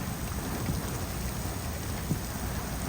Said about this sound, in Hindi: लेकिन बेहतरीन बारिश हो रही है